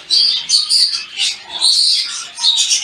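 A show budgerigar chick gives loud, close, repeated high-pitched raspy begging calls in several bursts with short pauses between them.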